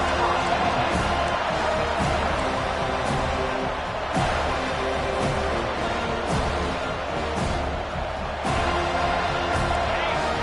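A stadium crowd roars steadily throughout a college football game in NCAA 25, with broad, sustained noise and brief louder swells, under faint commentary.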